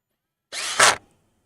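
A cordless drill briefly drives a wood screw into a guitar body, then its clutch slips with a short ratcheting burst, all within about half a second, close and loud.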